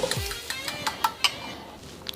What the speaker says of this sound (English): lightly scramble them